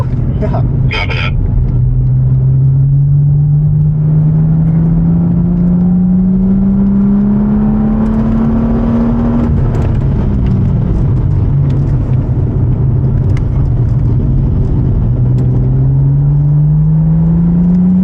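A race car laps the Circuit of the Americas on a wet track. Its onboard engine drones loudly and climbs steadily in pitch, dips sharply when lifting off, then builds again.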